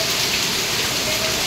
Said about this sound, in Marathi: आता बघा वरतून बघा केवढा धोधो पाऊस आहे बघा